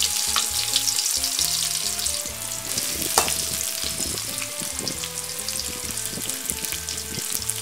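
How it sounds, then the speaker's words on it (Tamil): Onions hitting hot oil with popped mustard seeds and curry leaves for broken wheat upma, a loud continuous sizzle and crackle, close, with no talking. "அடுத்தது நம்ம எடுத்து வச்சுருக்க வெங்காயம் சேர்த்துக்கிறோங்க."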